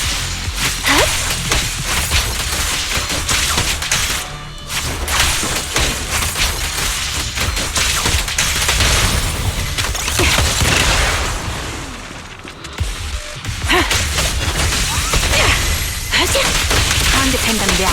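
Fire support barrage in Zenless Zone Zero: loud, dense bursts of gunfire and booming impacts pound almost nonstop, with brief lulls between waves of shots.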